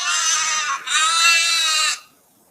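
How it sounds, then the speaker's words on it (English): A goat bleats loudly and close up in two long, wavering cries with a short break between them, with no voice over the sound. "GOAT, goat. Goat means बकरी."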